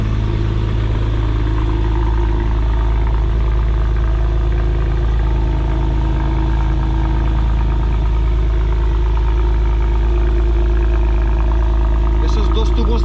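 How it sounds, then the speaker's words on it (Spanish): BMW Z4 Alpina engine running close up, a loud, deep, continuous idle rumble with steady throb from the twin exhausts, a brief clatter near the end. "escuchar el sonido del coche, vale, es que es boom, directamente, es como una bomba"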